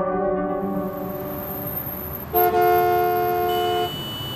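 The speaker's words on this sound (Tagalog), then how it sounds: "Grabe ang traffic." Car horns honk in heavy traffic before a typhoon landfall, a sustained tonal blare joined midway by a second louder horn for over a second, over a low rumble of street noise with no talking.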